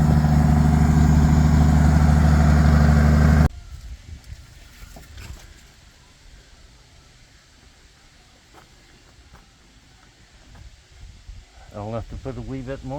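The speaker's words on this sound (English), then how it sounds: "Dad's just fired up the Bombardier again. He's going to move it in." Bombardier snow vehicle engine starting and running as it is moved in undercover for the night, loud low rumble at first, then a quieter steady idle with mechanical clatter and a rise at the end.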